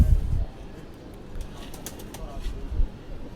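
A female pigeon of Indian bloodline coos in low, soft bursts near the start and end, with someone talking over it throughout.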